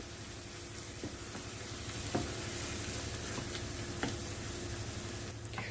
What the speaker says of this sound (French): Je vais ajouter le fromage frais. Et je vais bien mélanger.